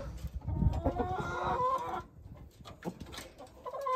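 Chickens cluck and a rooster calls close by, with scattered fowl noises and some background rustling.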